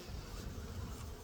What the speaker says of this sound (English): We're just going to shake our bees into this tray